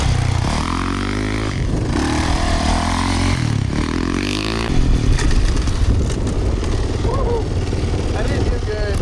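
A Yamaha YZ450F dirt bike revs repeatedly during wheelie attempts, its engine rising and falling in loud, close bursts with clattering and gravel scrape, while voices are heard faintly in the mix.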